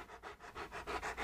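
A dog pants in quick, regular breaths, about seven rhythmic bursts close to the listener with no other sound.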